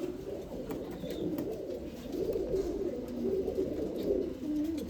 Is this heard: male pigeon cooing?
yes